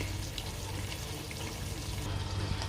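Chickpeas sizzle after being added to hot oil in a pan for a Lahori-style white chana curry, giving a steady, close, hissing crackle with no talking.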